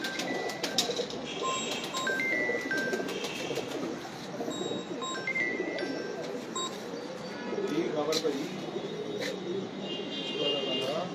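Pigeons coo nearby amid scattered chirps and flutters, while people talk over the birds throughout.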